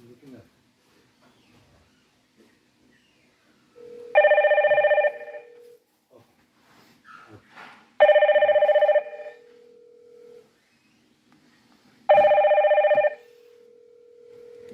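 A Hikvision intercom chime rings three times in clear, evenly spaced electronic bursts, with faint talking and quiet shuffling in the gaps between rings.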